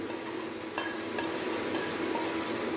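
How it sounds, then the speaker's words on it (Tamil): Cardamom, cloves, ginger, cinnamon, garlic and leaves fry and get stirred in a pan for tomato rice, giving a steady close sizzle with scraping stir strokes, with no talking. "இலைகளை இட்டு நன்றாக கிளற வேண்டும்."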